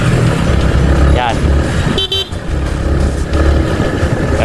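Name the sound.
motorcycle passing on the left during a bike race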